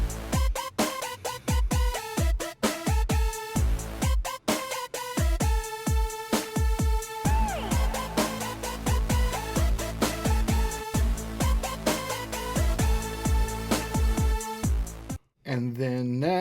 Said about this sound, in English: this is just a bounce down of the rough beat idea.